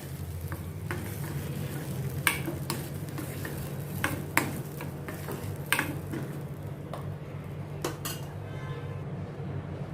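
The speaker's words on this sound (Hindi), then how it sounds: "इसको प्याज के साथ अच्छी तरह से मिक्स करती हूँ और सौते करती हूँ" Potatoes and onion sautéing in a pan: a steady sizzle under repeated sharp clinks and scrapes of a spoon stirring against the metal pan, close and with no talk.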